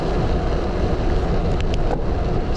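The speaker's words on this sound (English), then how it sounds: "The winds seem like they're dying down a little bit." Strong wind roars and buffets the microphone during a road bike ride into a hurricane-strength headwind, a loud, constant low rumble that goes on throughout with no talking.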